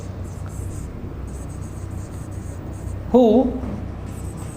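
An example sentence being written by hand: a faint, steady scratch of writing runs through a quiet room, then a brief voiced syllable rises near the end.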